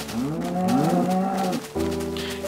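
A Minecraft cow lets out a low, drawn-out moo lasting over a second, close and clear, followed by a steadier tonal game sound.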